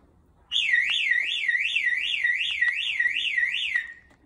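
A shrill electronic panic alarm from a car key fob warbles rapidly up and down in a steady siren pattern, loud and close, sounding for about three seconds before stopping.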